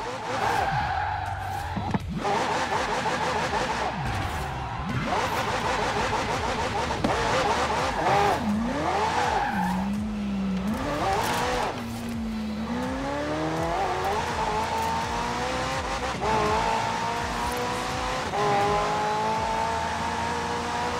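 A McLaren hybrid car in Forza Horizon 4 revving hard with rising and falling engine pitch, gear changes and tire squeal through turns, a loud continuous close-up drone with faint voice and navigation prompts in the background.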